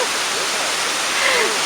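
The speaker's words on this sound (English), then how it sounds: "at least we get to touch the water here at Banyumala Waterfalls" Rushing white noise of Banyumala waterfall in Bali, a steady broadband roar of falling water close by, with a faint bird call or whistle rising briefly near the end.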